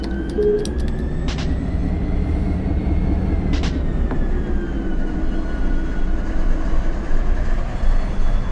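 A train runs through Barstow in the Run8 train simulator game, a steady loud rumble of rolling stock with faint higher tones and brief squeals over it, with no talk.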